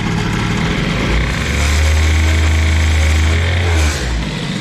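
A 50cc moped engine fitted with a Giannelli exhaust revs hard with the choke off, a loud sustained buzzing drone that climbs and holds steady for several seconds before easing slightly, close up and alone.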